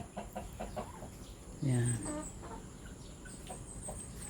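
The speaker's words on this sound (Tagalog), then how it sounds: "Iisa yung tandang po dyan." A rooster clucks among farm chickens, with a short loud cluck near the middle over faint background noise, and a voice speaks briefly.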